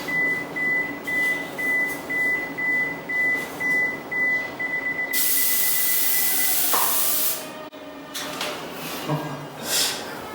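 Body spray from an aerosol can is released in hissing bursts to make a smoke effect for a product photo, with a long continuous hiss midway and a steady beeping tone in the first half, close and fairly loud.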